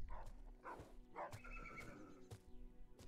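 A horse neighs in the fantasy role-playing video game Might and Magic X, a whinny rising and falling, with a few soft hoof clops over a faint game background.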